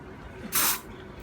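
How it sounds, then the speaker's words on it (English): A berry pop air freshener sprayed once in a single short, loud hissing burst of about a quarter second, set against a quiet room. "Let me spray this one right here for you."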